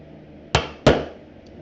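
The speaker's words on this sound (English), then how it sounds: "I'm going to use my setter to push that leather down on that rivet really nicely." Two sharp metallic hammer strikes on a rivet setter pressing leather onto a rivet for a backpack, close and distinct, followed by a third lighter tap starting at the very end.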